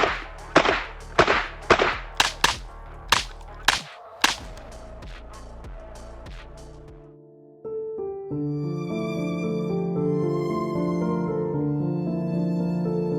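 A Ruger LC Charger pistol in 5.7x28mm, fed from a sand-fouled magazine, fires about ten sharp, loud shots in quick, slightly uneven succession. A short lull follows, then a steady tonal hum continues to the end.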